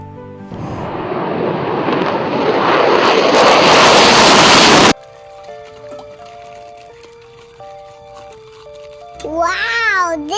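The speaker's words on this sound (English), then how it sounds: "Wow, this is fighter jet." A cartoon fighter jet roars past in a children's animation, a loud rising whoosh lasting several seconds that cuts off abruptly and gives way to soft music.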